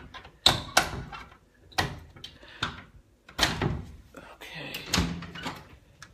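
A door fitted with several locks being unlocked and opened, heard as a series of sharp metallic clicks and thunks spread across several seconds, close by, with low speech in between.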